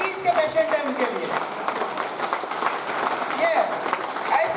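A seminar audience in Varanasi claps heartily, a continuous crowd applause with a speaker's voice running over it throughout.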